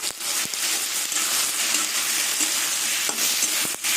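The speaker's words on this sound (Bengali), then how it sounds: "এবার আদা বাটা দিয়ে কিছুক্ষণ নাড়াচাড়া করবি" Ginger paste fries in a pan while being stirred, a close, steady sizzle broken by scraping strokes and light clinks of the spoon against the metal.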